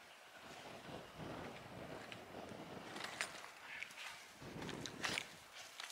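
Wind gusts blowing outdoors beside a pond on a cloudy, breezy day, a steady broadband rush with gentle swells and a few brighter buffets, fairly loud and continuous with no one talking.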